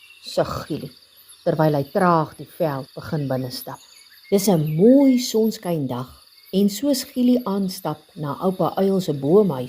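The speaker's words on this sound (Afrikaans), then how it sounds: "hoor hy hoe die sonbesies sing en die voeltjies fluit" Cicadas drone in a thin, continuous high buzz on a sunny day in open veld, heard faintly beneath a narrator telling a story in Afrikaans.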